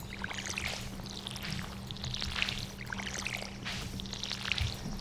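A watering can sprinkling water onto crops in the video game Stardew Valley, a soft, steady pouring hiss that swells and fades in repeated waves, quiet and close, with no talking.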